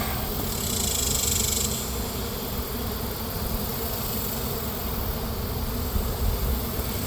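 Honey bees hum in a steady, dense drone from a neglected hive on a remote property, close and continuous with no voices, the swarm sound swelling slightly near the end.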